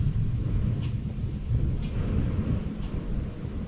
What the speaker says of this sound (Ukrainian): Ну ось, схоже, знову надходить буря.